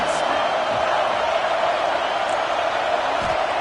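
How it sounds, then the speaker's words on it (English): A stadium crowd at a college football game between Alabama and Ohio State roars in a dense, steady wall of cheering, loud and sustained throughout with no gaps. "Listen to this crowd just shaking the girders of this place"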